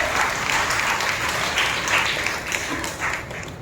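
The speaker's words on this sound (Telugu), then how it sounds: "చప్పట్లు కొట్టి మనం దేవుని పెట్టాలి." A church congregation at Sunday worship claps their hands in a dense, steady burst of applause that fills the room.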